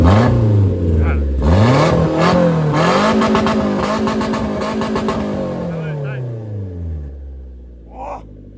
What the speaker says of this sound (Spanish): vamos a enseñar cómo suena un coche a escape libre de verdad